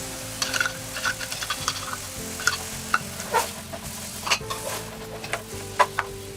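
Butter and tomato sauce sizzle in a very hot frying pan while a utensil stirs and scrapes, sending steady frying noise and intermittent clinks and scrapes close by, with no talking.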